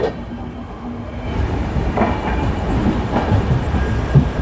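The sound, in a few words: Howrah–Puri Superfast Express train running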